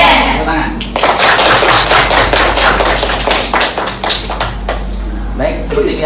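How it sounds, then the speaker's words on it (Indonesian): A classroom of students claps hands together in bursts of sharp, rapid rhythmic claps, loud and close, with voices talking and calling out over and between the clapping. "Tepuk tangan."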